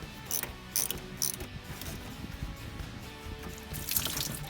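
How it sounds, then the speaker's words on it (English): Small ratchet and socket loosening a radiator hose clamp on a Subaru, several quick clicking bursts up close and fairly quiet, with faint background hiss. "you might actually have to use a little ratchet and a socket on it"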